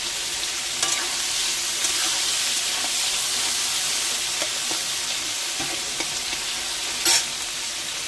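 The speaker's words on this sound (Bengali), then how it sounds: "চিংড়ি মাছটা ভেজে নিই।" Prawns sizzle steadily in hot oil, a continuous bright crackle with occasional spatters and a few faint stirring taps.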